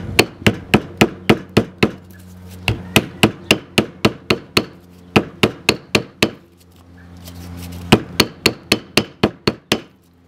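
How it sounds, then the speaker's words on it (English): A hammer strikes EVA foam to texture its surface in quick, steady runs of dull thuds, close and loud, pausing briefly between bursts. "we're going to take our foam and a hammer"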